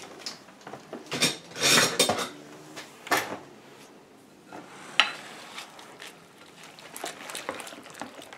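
Utensils clink and scrape against a big bowl in a run of irregular stirring strokes, close by, mixing dried food with boiled water, with brief pauses and a sharper knock near the end.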